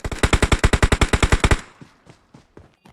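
A rapid video-game machine gun burst of about fourteen sharp, evenly spaced shots fires loud and close, then cuts off into faint, scattered trailing sounds.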